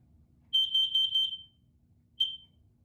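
A smoke alarm from a home collection sounds on its own: four rapid, loud, high-pitched beeps in a row, a short pause, then one more beep.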